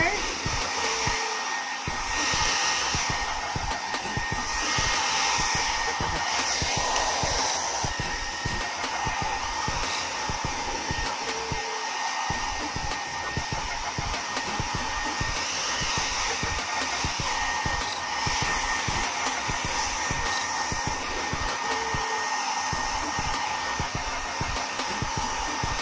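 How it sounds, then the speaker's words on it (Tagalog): A steady, loud pet-hair blower-dryer roar runs throughout while drying a pet, with faint talking now and then beneath the continuous whoosh. "Ngayon, gagamitan po natin siya ng blower."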